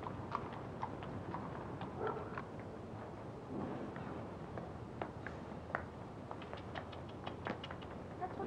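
Horse hooves clip-clopping faintly while being ridden in Christiania, a scattered series of light knocks over a low, dull background.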